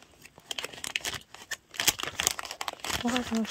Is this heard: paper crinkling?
yes